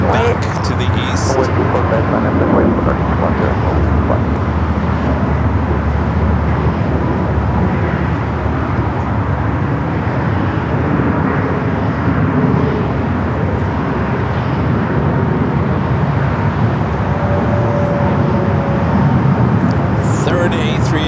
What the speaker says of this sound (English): Third A380 arrival here on the north side